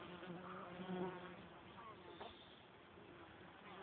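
Honeybees buzz at a hive entrance in July, a faint, steady insect hum with a few louder passes close to the microphone, while low talk comes and goes in the background.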